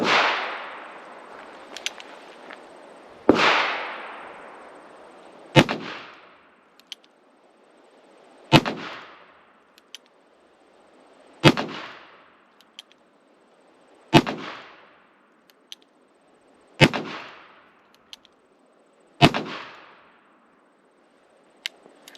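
Eight sharp gunshots from black powder loads fired in modern smokeless cartridges, spaced about three seconds apart, each a loud crack with a long decaying tail, no talking.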